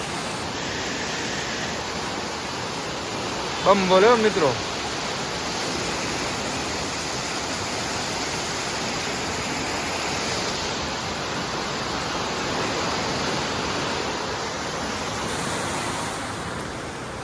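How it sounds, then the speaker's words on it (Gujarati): Water rushes through a large village canal, a steady broadband roar close by that never lets up, with a short spoken phrase briefly over it near the start. "જેવું પાણી જાય રહ્યું તમે ખાલી પાણી જુઓ જો મિત્રો આમાં જો મિત્રો કેવું પાણી અવાજ કરેલું"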